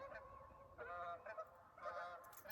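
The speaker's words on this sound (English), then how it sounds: "I'm about to get ran over by geese" Geese honk in repeated bursts, fairly close, several calls overlapping with brief pauses between them.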